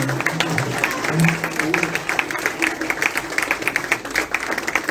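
Listeners at the close of a public lecture on pedagogies of difference clap together, a sustained ripple of applause with a few voices murmuring underneath near the start.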